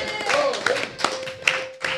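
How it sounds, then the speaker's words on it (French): Audience applause at the PodRennes 2018 Saturday-night podcast games: scattered, uneven claps from a modest crowd over a steady sustained tone in the room. "On applaudit Aurine."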